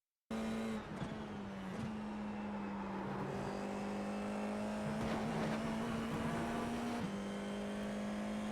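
FIA F4 race car engine at Watkins Glen in a racing video game, a steady high-pitched whine held near full throttle with brief dips at gear changes, loud and continuous with no talk.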